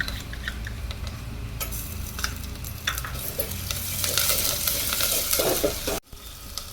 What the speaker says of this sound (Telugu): ఇప్పుడు ఉల్లిపాయ పచ్చిమిరకాయ వేగింది కొంచెం కరివేపాకు వేసుకుందాం ఇప్పుడు అల్లం పేస్ట్ వేసుకుందాం